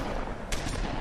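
Gunfire in the video game The Wolf Among Us cracks out in a single loud burst midway through a busy, noisy game soundscape.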